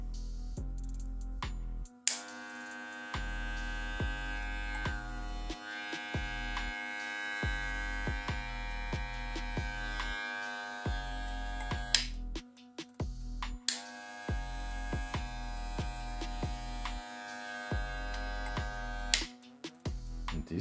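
Wahl 1919 hair clipper running close up, a steady electric buzz that cuts out and restarts several times, with sharp clicks as it is switched on and off.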